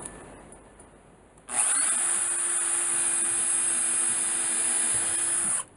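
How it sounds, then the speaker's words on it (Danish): A power drill bores a hole in a wooden board, starting abruptly and spinning at a loud, steady whine for about four seconds before stopping. "nu mangler jeg at bore huller i den her"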